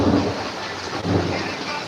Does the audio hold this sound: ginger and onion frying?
no